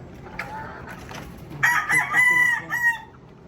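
Hens clucking softly, then a rooster lets out one loud, near crow with several drawn-out rising and falling segments, standing out clearly over the farmyard background.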